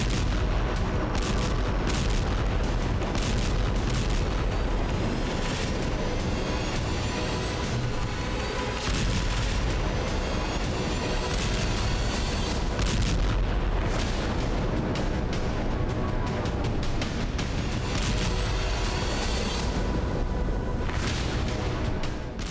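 Explosions and heavy gunfire during an attack on the port of Sevastopol in Crimea: a dense, continuous barrage of loud booms and sharp bursts with no pause throughout.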